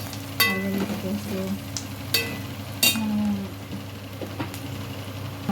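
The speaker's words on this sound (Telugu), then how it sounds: "అల్లం పేస్ట్ వేస్తున్నాను." Ginger paste hits hot oil in a pan for a black pomfret fish curry, producing a steady low sizzle with scattered clinks and stirring scrapes, close up and moderately loud.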